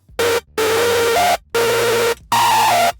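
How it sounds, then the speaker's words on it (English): Bright, buzzy hardstyle supersaw lead synth built in Vital, heard alone as four loud sustained stabs separated by short gaps, with pitch steps inside the notes. "And that is your basic Supersaw."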